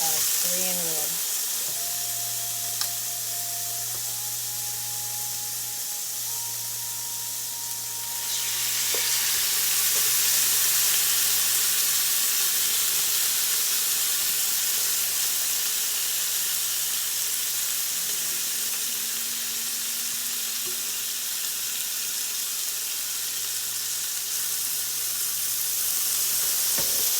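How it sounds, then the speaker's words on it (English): Korean kalbi BBQ ribs sizzle and fry steadily in a hot pan, a continuous bright hiss that swells louder partway through, with a low steady hum running underneath. "Just let this cook for a couple minutes, and I'm going to flip them over."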